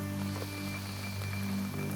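Steady rain patters continuously in the survival game Terminus Zombie Survivors, a dense even hiss of falling drops over a low hum with no voices.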